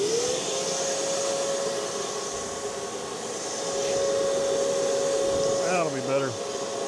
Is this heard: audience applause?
no